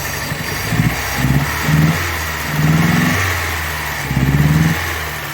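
A 1985 Chrysler New Yorker engine just after starting, searching for idle: the motor runs steadily while its revs rise and fall in uneven surges, loud and close with no talking.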